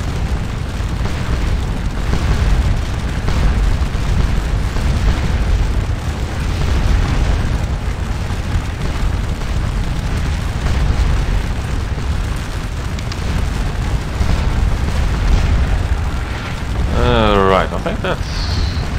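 Artillery fire in the Napoleonic-era Waterloo battle game Scourge of War: a dense, continuous low rumble of cannon booms rolls on without pause, and near the end a brief high sweeping whistle sounds.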